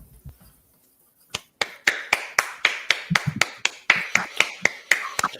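A single person claps slowly and steadily after a poetry reading, with sharp, evenly spaced close-up claps that start after a brief quiet moment.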